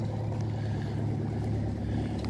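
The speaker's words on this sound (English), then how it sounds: "there's one just going out there, the Freya, starting his engines up." Fishing boat Freya starting its engines in a quiet Stonehaven harbour, giving a steady low diesel drone that holds at moderate loudness throughout, with no talking.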